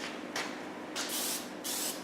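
Short hissing spray bursts, three of them, applied close up to a model A-10 aircraft whose engine nacelles are stuffed with paper; the middle burst is the longest, with quiet pauses between.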